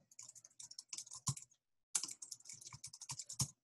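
Computer keyboard typing, quick bursts of close, crisp key clicks in irregular runs, with a short pause midway before another rapid flurry of keystrokes.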